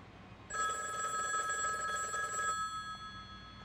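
Telephone ringing in the James Bond 007: Blood Stone video game, a single steady electronic ring lasting about two seconds, clear and close, then cutting off into quiet room tone.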